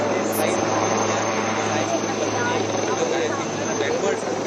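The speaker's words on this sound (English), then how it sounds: "right behind Abhishek I can see the light combat helicopter now making a landing" A light combat helicopter lands at Jodhpur Air Base, its loud, steady rotor and engine roar filling the air without a break.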